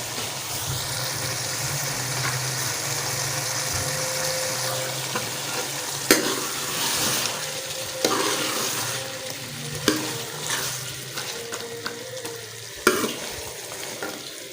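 Fresh beans and boneless chicken are stirred in a sizzling pan, a steady frying hiss with scraping clatters of the spoon becoming more frequent in the second half.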